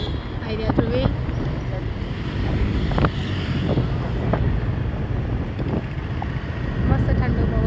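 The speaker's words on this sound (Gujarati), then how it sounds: "મસ્ત ઠંડો પવન છે" Cool night wind blows across the microphone outdoors, a steady roaring rush with scattered faint clicks and knocks underneath.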